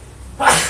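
A single sharp human sneeze in an indoor meeting, bursting out suddenly after a quiet moment, close and loud.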